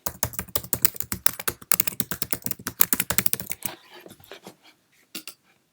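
Typing on a Mac keyboard, rapid close clicky keystrokes in quick bursts that slow and thin out into a few scattered taps near the end, with no voices.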